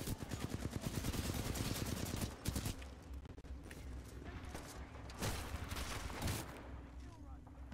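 Gunfire in Titanfall 2 comes as a loud, rapid automatic burst for about two seconds, followed by scattered sharp shots and echoing bursts over steady battle noise, with a voice speaking now and then.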